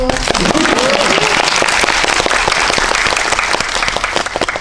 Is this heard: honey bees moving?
no